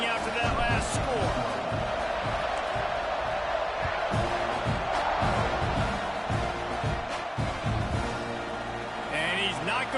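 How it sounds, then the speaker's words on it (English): In the College Football 26 video game, a stadium crowd buzzes loudly and steadily around a kickoff, with a commentator talking throughout over the crowd noise. "this crowd is buzzing after that last score"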